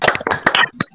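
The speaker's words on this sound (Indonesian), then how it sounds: "Tepuk tangan untuk kita semua." A brief burst of hand clapping in a primary school classroom, a few sharp claps close by, lasting about a second.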